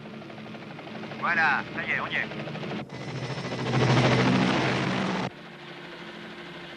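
A helicopter flying in an 1980s action TV series, a continuous loud rotor drone that swells and then cuts off abruptly, with a voice speaking over it early on.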